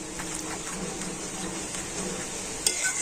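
Milk and custard powder mixture being stirred into a pan for a dessert, a steady close scraping and swishing with faint sizzle underneath and a brief clink near the end.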